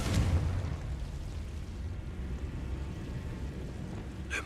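A Confringo spell blast goes off in a Harry Potter video game: a loud burst at the start gives way to a steady rushing, crackling roar, and a brief bright crackle comes near the end.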